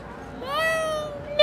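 A person imitates a cat with a drawn-out, rising then falling meow, followed by the start of another short meow at the end.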